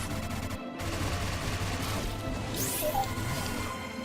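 Continuous weapon fire in the video game StarBreak makes a dense, unbroken barrage of rapid shots and impacts, loud and steady with a brief dropout near the start.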